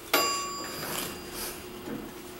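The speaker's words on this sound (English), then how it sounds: "I love that chime." A Dover elevator at a Veterans Administration building at TAMU in College Station, Texas gives one bright arrival chime. The ding starts sharp and rings out slowly, nearby, in a quiet lobby.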